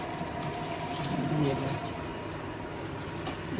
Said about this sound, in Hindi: ठंडे पानी से हम इसको वॉश करेंगे ताकि ये आपस में जुड़े ना